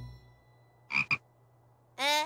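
A cartoon frog croaks, two short close croaks followed by a longer rasping one, over a faint low hum with no talking.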